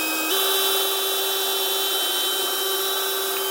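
A power drill bores a through hole in wood, its motor jumping to a loud, steady high whine just after the start and holding unbroken for the rest of the clip.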